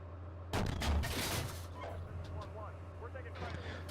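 High-explosive tank round fired in an armoured combat video game, a sharp loud blast followed by a rumbling decay, with faint voices in the background.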